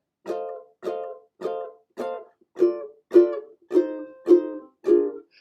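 Nine even down strums on a ukulele, bright and close, each chord ringing briefly before the next in a relaxed, steady swing feel.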